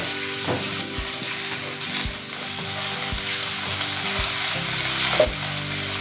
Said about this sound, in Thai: ผัดให้หมูสับพอสุกค่ะ